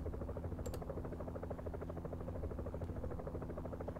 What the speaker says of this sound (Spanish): Pero hay más también, el helicóptero.